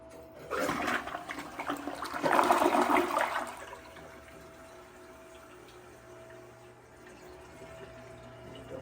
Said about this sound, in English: Let's do another flush.